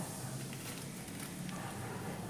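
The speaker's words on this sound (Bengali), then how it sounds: "তারপরে দেব আমি আবার একটু কালো জিরে ফোড়ন" Nigella seeds crackle and sizzle in hot oil in a kadai, a steady dense spitting hiss that holds at an even level throughout, close by with no talking.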